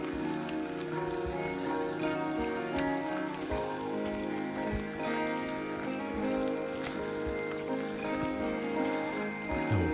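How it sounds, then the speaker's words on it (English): Steady rain falls in Allegheny National Forest, a dense, even patter on leaves and ground lasting throughout, with faint footsteps and rustling close by. "the rain's even picked up"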